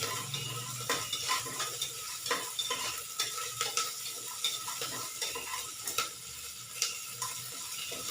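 Onions frying in a pan with small pieces of cinnamon and cloves, salted so they brown faster, give a steady close sizzle broken by regular scraping stirs of a spoon against the metal.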